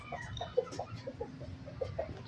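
Junglefowl clucking nearby in a quick, irregular series of short clucks over soft outdoor background noise.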